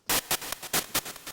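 White noise from a Korg EMX-1 synthesizer plays in short, loud, rhythmic hiss bursts, a rapid pattern of gated static pulses with delay and reverb, with no voice.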